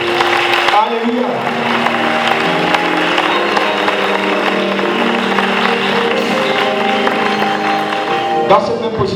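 A church congregation in Gabon bursts into sustained applause and cheering to acclaim the Lord, a dense wash of clapping and voices that holds for several seconds under musical tones, loud and close.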